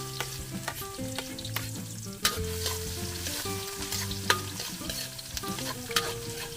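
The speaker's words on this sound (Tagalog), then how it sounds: "naglagay po siya ng mantika at magigisa muna" Ginger sautéing in hot oil in a pan for a farm-style banana heart and sand shrimp dish, a continuous sizzle with repeated stirring scrapes and clinks, up close with no voices.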